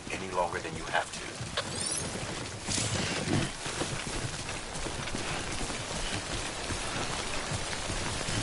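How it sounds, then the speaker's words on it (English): Timefall rain falling in the Death Stranding video game, a steady hiss of rain on surfaces under continuous game dialogue, with irregular clopping and thudding sounds mixed in. "Don't stay out in the rain any longer than you have to."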